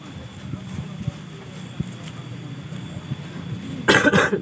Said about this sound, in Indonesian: batuk nih, belum apa sembuh ya.